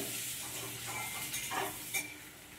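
Food frying in a pan at home as it overcooks and starts to burn: a quiet, steady sizzle with a few soft stirring scrapes near the end.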